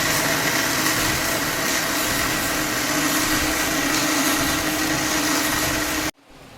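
An electric mixer grinder whirs steadily and loudly for about six seconds as it grinds cooked eggplant and chickpeas into a paste, then cuts off abruptly.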